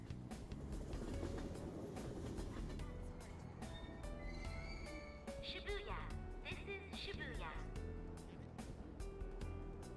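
A train ride to Shibuya station in Persona 5 Royal plays as a steady rumble of rail noise under game music, with a speaking voice running over it throughout.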